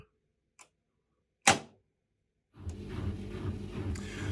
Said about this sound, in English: You can hear the water pump in the background